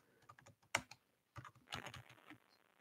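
Fingers typing on a computer keyboard, close and quiet, with uneven clusters of soft key clicks, one sharper tap, and a brief pause partway through.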